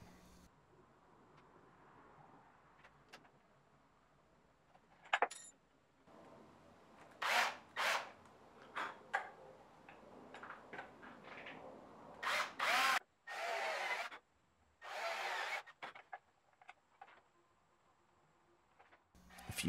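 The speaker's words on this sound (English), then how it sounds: "A hole has to be rebated into the wood so the stud can fit." A drill bores a rebated hole into a wooden guitar amp cabinet for a handle stud, heard as short, loud, repeated drilling bursts separated by quiet pauses and handling noise.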